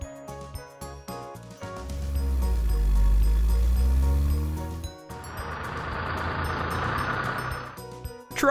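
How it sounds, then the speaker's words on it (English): A car engine swells into a low, loud rev and fades, then a broad, hissing rush of noise takes over. "Car."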